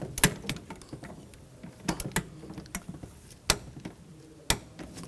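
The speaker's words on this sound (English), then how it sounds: "Now we'll torque this nut to 12 foot-pounds." A torque wrench clicking while a nut on an AC compressor hose is tightened on a 2006-2010 Hummer H3 3.7L, with sharp separate clicks at irregular gaps over quiet mechanical handling noise.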